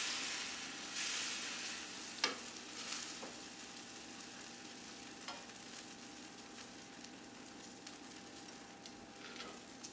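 Food frying in a pan gives a steady, close sizzle throughout, with a few sharp clicks and taps from stirring scattered over it.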